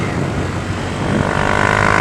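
Honda Fan 150 motorcycle fitted with a Gemoto Racing exhaust and a 4mm kit runs with a loud, continuous engine rumble close up. Quick, throbbing revs build toward the end, and no voices are heard.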